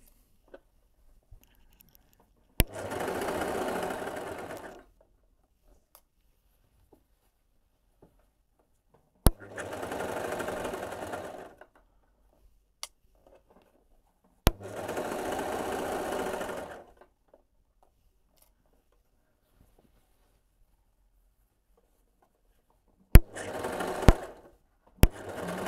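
A coverstitch sewing machine stitching a seam on a tank top, running in four separate bursts of steady mechanical whirring a few seconds each, with quiet pauses and sharp clicks between them.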